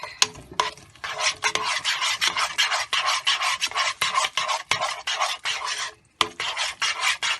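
Choux pastry dough being mixed by hand, a steady run of rough scraping and rubbing strokes close up, with a short pause near the end.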